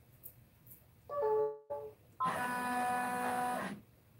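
An embroidery machine stitches a tack-down stitch on a leather purse in the hoop, giving short bursts of motorized whirring with a steady tonal hum, a brief pause, then a longer sustained run.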